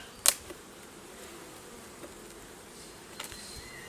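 Honey bees buzz softly around an open hive in a leafy green area, a faint continuous hum under light handling noises and a sharp click near the start.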